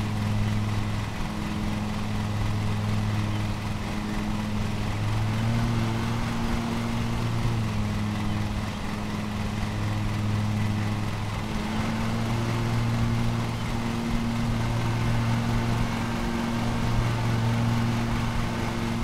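Steady droning lawn mower engine runs continuously close by, its low humming tone holding level throughout with no talk over it.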